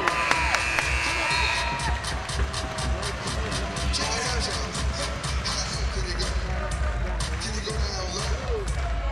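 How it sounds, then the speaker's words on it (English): Energetic crowd at a men's college basketball game between Stephen F. Austin and Sam Houston, loud sustained cheering and shouting filling the arena, with ball bounces and sneaker squeaks scattered through the roar. "Crowd getting into it. I love this energetic crowd."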